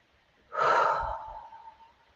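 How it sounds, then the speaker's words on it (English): One long, audible exhale during a guided breathing meditation: a breathy sigh of about a second that fades gradually into near silence, close and clear, with no talking. "So on the out breath, let it go."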